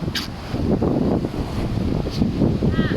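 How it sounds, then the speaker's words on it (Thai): Strong wind at the seaside buffets the microphone in a steady rushing roar, with surf faintly beneath and brief gusty bursts; no clear speech. "ลมแรงไป"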